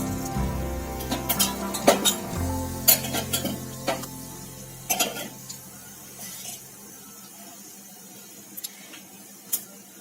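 Mustard seeds and cumin sizzle and crackle in hot oil for a tempering, with scattered sharp pops and a few metal spoon scrapes against the pan, close and fairly quiet, fading toward a steady low sizzle.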